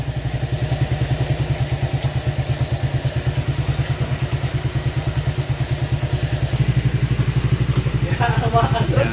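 A motorcycle idles after an ignition coil repair, its rapid even thumping engine pulse running steadily and close, growing slightly louder near the end with some clattering.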